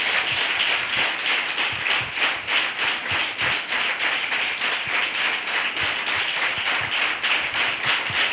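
A church congregation applauding in steady rhythm, a continuous wash of many hands clapping in time close by, with a faint low beat underneath and no clear speech.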